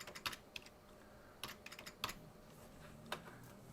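Typing a password on a computer keyboard: a few quiet, irregular key clicks in short bursts, close up and alone.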